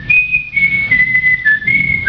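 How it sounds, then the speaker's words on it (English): Someone whistles to insects in a quiet room, a clear, wavering high tone in several sustained phrases with short breaks between them. "how it hears whistling"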